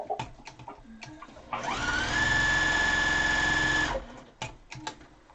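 A sewing machine stitches a quilt in a single steady run of about two seconds, loud and close, with a high whining motor tone. Quieter household noises come before and after it.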